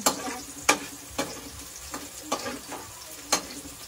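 Garlic fries in a pan with a soft, steady sizzle, broken by sharp clicks of a utensil stirring and tapping at irregular intervals, close and moderately quiet.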